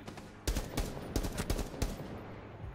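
Rapid bursts of video game gunfire crack out in quick clusters, loud and close over a steady background hum, with no talking.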